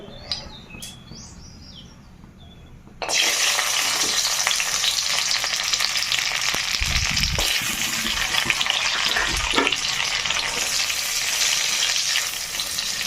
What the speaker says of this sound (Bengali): ঘিটা গরম হয়ে গেছে এখন আমি কাজুটা ভেজে নেব